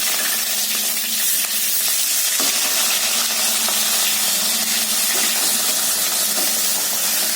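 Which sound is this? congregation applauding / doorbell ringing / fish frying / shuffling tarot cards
fish frying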